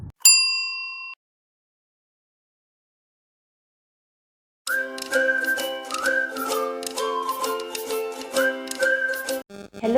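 A single bright notification ding rings out and decays, then after a silence a short tonal jingle of chimes and whistle-like notes plays, with no voices.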